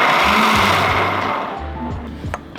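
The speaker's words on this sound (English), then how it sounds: "I've decided I want restaurant style, so we're just gonna blend it up" Blender pulsing diced salsa for chile verde in a kitchen, several short whirring bursts starting and stopping, loud and close, with the motor pitch rising and dropping between pulses.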